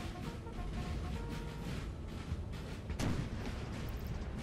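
Massed musket volleys from line infantry in the Napoleonic strategy game Napoleon Total War, a steady crackle of distant gunfire running through the battle, with one heavier report standing out near the end.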